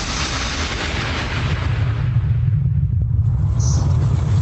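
A deep, sustained explosion roar rumbles loudly for over four seconds, a broad booming wash with heavy low-end weight that slowly thins in its upper layers without any voices over it.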